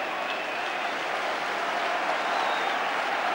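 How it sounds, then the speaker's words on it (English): A Rangers football crowd at an FA Cup match roars and applauds steadily, a dense, sustained wash of cheering and clapping with no break, loud and continuous throughout. "the Rangers crowd really giving it a go today"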